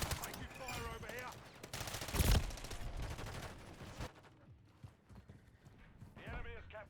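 Video game gunfire crackles in rapid bursts alongside hoofbeat-like clatter and game effects, loud at first and then thinning out, with voices talking over it.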